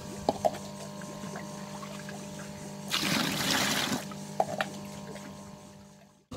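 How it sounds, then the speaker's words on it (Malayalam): Pond water is poured into a container for a biofloc pH test, a short gush of splashing liquid about a second long set against a quiet background hum, with no voices. "ഇതിലേക്ക് പോണ്ടിലത്തെ വെള്ളം എടുത്ത് ഒഴിച്ചു."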